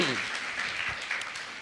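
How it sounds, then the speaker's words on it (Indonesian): Brief burst of congregational clapping during a church sermon, a short dense patter with a voice briefly audible over it. "Berikan tepuk tangan buat Tuhan Yesus ya."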